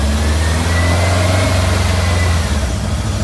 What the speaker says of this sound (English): It keeps revving up.